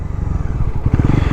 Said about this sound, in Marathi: इथून पिकअप आहे भाई जबरदस्त, थ्रॉटल रिस्पॉन्स चांगला येतो आहे.